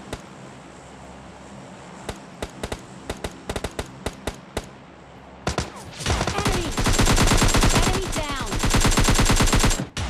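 Rapid bursts of gunfire in the mobile battle-royale game PUBG Mobile Lite: scattered sharp single shots at first, then a loud, dense sustained volley filling the second half, with no talking.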